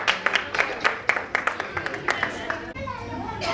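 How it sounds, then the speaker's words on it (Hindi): Scattered hand claps from a small audience at a first-birthday celebration, short irregular bursts mixed with children's voices and chatter in a lively room. "तालियां तो बजा दीजिए सबकी"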